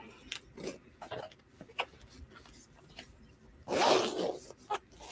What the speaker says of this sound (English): there's like a little zipper here